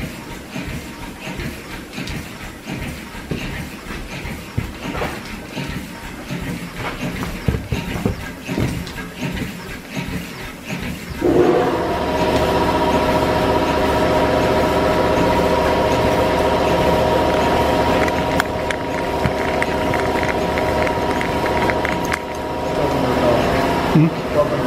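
A Morris steam engine in an old steam-powered machine shop runs on very little air volume, a rapid steady mechanical chuffing and clatter that grows louder and fuller partway through, with a belt-driven hum beneath and voices nearby.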